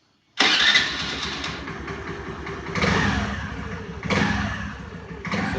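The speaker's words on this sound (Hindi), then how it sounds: "मैं आपको स्कूटर स्टार्ट करके दिखाता हूँ" A Honda Aviator scooter engine cranks and catches abruptly, then runs steadily at close range with two brief revs, no talking.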